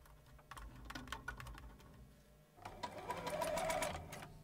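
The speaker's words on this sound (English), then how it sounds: "I can go to the sewing machine and stitch it together" A sewing machine stitches elastic onto underwear fabric in rapid mechanical bursts, pausing briefly before a louder, denser run of stitching, heard close with no speech.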